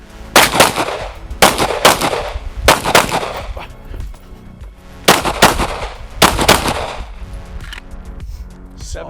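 Loud, close firearm shots ring out during a competition shooting stage, fired in quick pairs and singles with short pauses between them, about eight reports in all.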